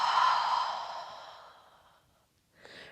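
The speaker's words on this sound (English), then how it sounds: "And then open the mouth, exhale." A long, audible breath pushed out through an open mouth during a yoga warm-up, fading slowly over about two seconds, followed by a brief soft breath.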